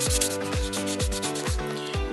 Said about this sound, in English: take your buffing block again and buff the nails and get them nice and smooth